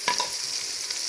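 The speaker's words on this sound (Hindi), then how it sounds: "हरी मिर्च को मैंने हल्का सा फ्राई कर लिया" Green chillies frying in a pan with tomato, ginger and garlic paste, a steady close sizzle with a couple of stirring scrapes at the start, no talking.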